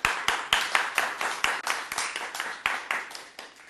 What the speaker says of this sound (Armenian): ծափարենք նրանց։